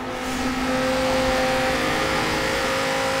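A 2016 Dodge Viper ACR drives in Forza Horizon 3, its engine holding a loud, steady drone with strong tonal harmonics for the whole stretch and no talk over it.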